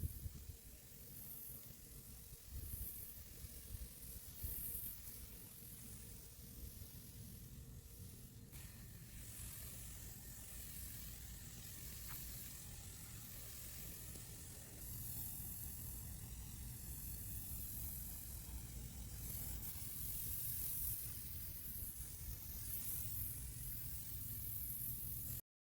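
A hose end sprayer applies liquid D-Thatch across a large lawn, producing a continuous, steady hiss of spraying water that stays even and close throughout.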